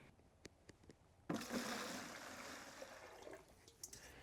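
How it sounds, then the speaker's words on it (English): Water rushes into a bucket being filled for a mousetrap, a strong splashing gush that starts abruptly after a few faint clicks and then keeps flowing steadily. "First, we'll fill the bucket with water."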